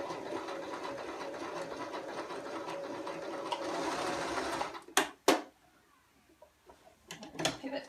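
Sewing machine running continuously as it stitches around the neck hole of a girl's dress, then stopping abruptly, followed by a few short sharp clicks and bursts of handling noise, no talking.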